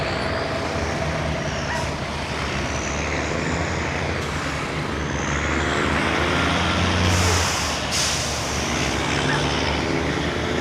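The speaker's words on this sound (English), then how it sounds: "That truck sounds good." A semi truck's engine running on a local delivery route in North Carolina, a loud steady rumble with hissing air-brake bursts and passing traffic around it.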